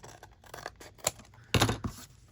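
Scissors cutting paper in a journal, a few close, crisp snips and rustles in a short quiet sequence.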